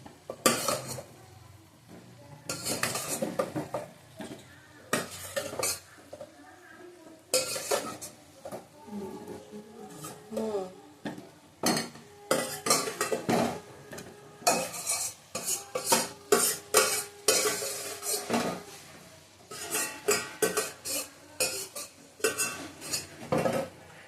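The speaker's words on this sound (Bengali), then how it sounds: "আলু আর ইঁচড়টাকে দিয়ে একটু কষিয়ে নিই" Fried jackfruit and potato pieces stirred in a pan with a metal spatula, giving irregular scraping and clinking bursts over a faint sizzle, close and fairly loud throughout with no talking.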